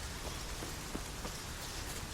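Steady rainfall in The Witcher III: Wild Hunt, a dense, even hiss of drops hitting surfaces with faint scattered patters, continuous and fairly close, with no voices over it.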